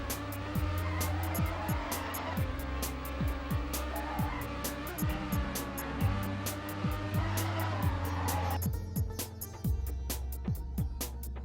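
A race car in the Trackmania video game drifts through two tight left turns in a row, its steady engine drone carrying under repeated sharp squeals and clicks from the tires, loud and close throughout.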